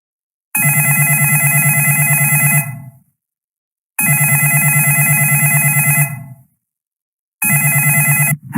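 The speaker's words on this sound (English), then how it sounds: "Then the phone rings and this message is heard." A telephone in the Five Nights at Freddy's video game rings loud and clear, three long electronic trills, each about two seconds long and separated by brief silences, with the third cut short. No voices are heard.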